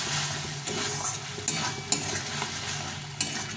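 Fried potatoes stirred through a reddish spice paste cooked down in oil, a dense continuous sizzle with repeated scraping strokes and a few sharp utensil clicks, close and alone.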